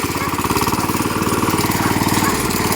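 A walk-behind tractor engine revs hard in sixth gear while pushing through deep snow off-road, a loud, steady, pulsing mechanical chug that holds close and constant throughout.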